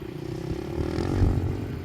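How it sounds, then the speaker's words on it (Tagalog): A motorcycle on desert sand, a low rumbling engine drone with some clatter that swells slightly toward the middle as if passing fairly close, no speech. "Hello, may motor guys."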